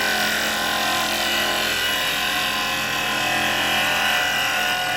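A carbide chisel cutting a small firewood bowl on a wood lathe, giving a loud, continuous whirring, shearing noise that holds steady and close, with no talking.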